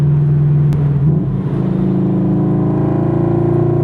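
Supercharged Subaru BRZ pulling under acceleration, a loud, steady engine drone heard from inside the car with its pitch rising slowly.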